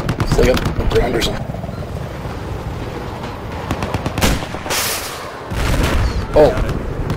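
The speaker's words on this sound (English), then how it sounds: "I got eyes on an enemy chopper." An enemy helicopter in the Battlefield 4 video game thrums steadily under bursts of gunfire and explosions, with a player talking over the combat.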